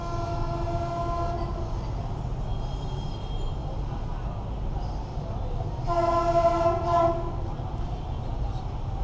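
A train rumbles steadily past in Vietnam, then sounds its horn in a loud, sustained blast followed by a shorter second one.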